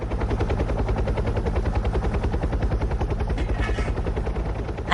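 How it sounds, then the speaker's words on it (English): An air ambulance helicopter comes in to land, its rotor chopping in a loud, steady, rapid beat that fills the whole stretch without letup. "A helicopter, really?"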